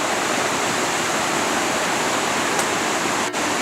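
Flowing water rushes in a constant, dense hiss, a close mountain stream on Jirisan tumbling over rocks, steady and loud from start to finish.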